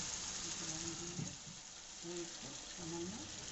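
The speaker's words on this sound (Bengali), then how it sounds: "নাড়ানোর পর কিছুটা জল দিয়ে দিলাম।" Sauce in a wok with water added sizzles in a constant bright hiss, with a voice talking over it in short phrases.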